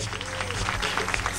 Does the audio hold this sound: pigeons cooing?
no